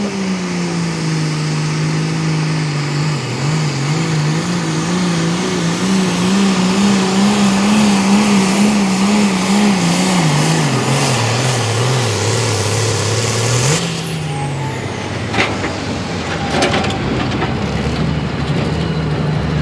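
Pulling tractors and trucks at a Big Money Pull in Harrisonburg, Virginia, one loud engine revving up and down in rising and falling waves for about fourteen seconds, then dropping to a lower idle rumble, no talking.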